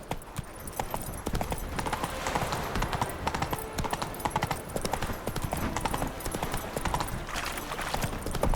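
Hooves of a horse galloping in The Witcher 3 video game, a rapid, continuous clip-clop rhythm heard up close throughout, with other game sounds mixed in.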